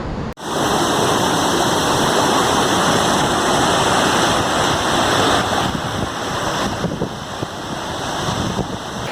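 Yosemite waterfall roaring close by near the bridge beneath the falls, a loud, unbroken wall of rushing water with heavy wind buffeting the microphone, heard alone.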